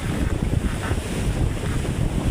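Strong wind at sea during a typhoon roars steadily across the microphone, with rushing waves and sea noise underneath, loud and continuous with no voices.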